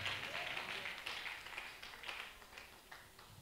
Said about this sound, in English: Somebody clap your hands and give God a good praise.